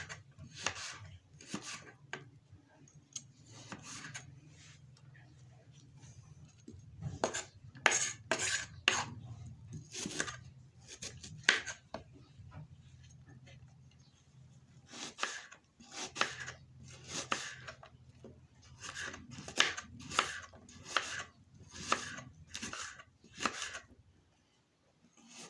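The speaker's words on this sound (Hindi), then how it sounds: "پیاز بھی کاٹ لیا ہے میں نے" A knife chopping onion on a cutting board, bursts of quick, close, crisp cuts in uneven runs with short pauses between, faint room hum underneath and no talking.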